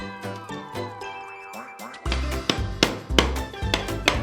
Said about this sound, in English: And we have a hammer. Let's tap the ball.